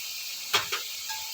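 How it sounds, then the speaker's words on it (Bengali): Spice masala frying in oil for a potato and fish curry, a faint steady sizzle with two quick scraping strokes of stirring in the middle. "ভালো করে নাড়াচাড়া করে নেব। মশলায় তেল ছেড়ে গেছে, এরপর টমেটো কুচি দেব।"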